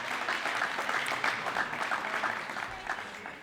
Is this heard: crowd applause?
yes